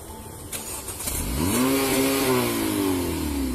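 A DUI suspect's car engine cranks and catches, then revs hard with a rising, sustained growl that swells louder and holds near the listener.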